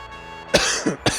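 Two or three sharp, harsh coughs hit close into a microphone over a quiet game-music background, the first loudest and the rest in quick succession.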